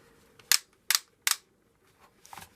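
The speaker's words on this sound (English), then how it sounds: "the motion of tilting it it's on like a ratchet type" A Honeywell HT900EV1 turbo fan's tilting ratchet gives three sharp, evenly spaced clicks close up, then a couple of fainter clicks.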